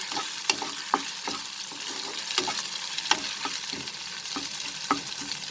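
Ginger and garlic roasting in a pan for chicken roast, giving a continuous bright sizzle with occasional sharp ticks of a spatula scraping through, close and steady.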